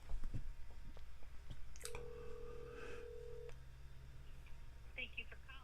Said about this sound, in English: Call Sweetie Petey. Calling Sweetie Petey